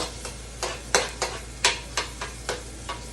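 Onions sauté in a pan for Valenciana, with rhythmic spatula strokes, about ten scraping swishes over a steady sizzle, close and fairly loud, no voices.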